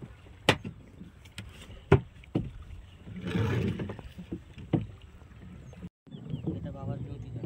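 A small boat worked on a tidal river in the Sundarbans, used for setting a behundi fishing net, gives scattered knocks and thumps, with a brief stretch of water splashing and wash in the middle, under faint background noise.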